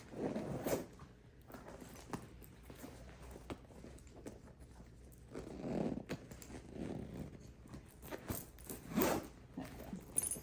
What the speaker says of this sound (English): My back zipper's a little sticky.